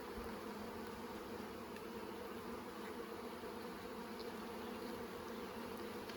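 Honeybees drone steadily in an opened hive during a 2022 inspection, a faint, continuous hum with no pauses and no talk.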